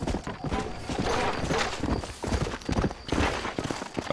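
Steady clip-clop of horse hooves trotting in the video game Red Dead Redemption, fairly close, with a brief whinny and some background game noise throughout.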